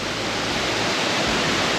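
Minnehaha Falls in Lakemont, including its smaller falls, gives off a loud, steady rush of falling water, a dense broadband roar that stays constant up close.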